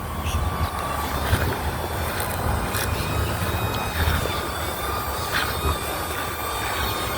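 A small DJI Neo drone flies somewhere near but out of sight outdoors, its rotors giving a steady buzzing whine with faint tonal hum over a broad windy rush, fairly loud and continuous.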